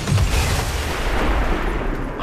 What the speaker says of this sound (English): I love the car explosions in this game.